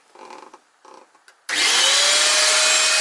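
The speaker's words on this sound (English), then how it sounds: "I vacuum up my workshop about 10 times a day using my very cheap" A few muffled knocks and clatters, then a cheap vacuum cleaner in a workshop switches on abruptly and roars loudly and steadily nearby.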